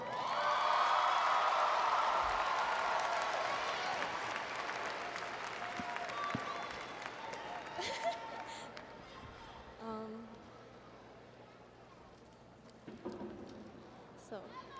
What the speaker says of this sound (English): Give it up for Miss Catherine Jerupicorn.